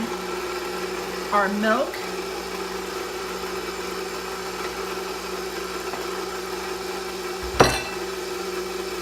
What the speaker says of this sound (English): We are going to turn our mixer on low now